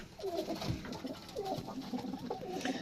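Pigeons in a breeding loft coo in repeated low, throaty rolling phrases, close and moderately loud over a soft background murmur, with no talking.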